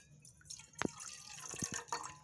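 Quiet splashing and dripping as a small glass of water is poured into a pot, a few distinct plops and trickles, close by and fairly soft.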